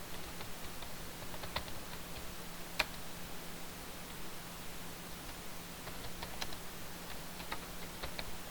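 Code being typed on a computer keyboard: light, scattered key clicks at a steady, unhurried pace, close and fairly quiet over a faint constant hum, with one sharper tap standing out.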